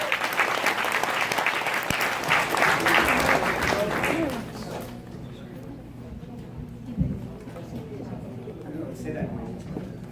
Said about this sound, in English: let's go ahead and give Alex a huge round of applause, you guys.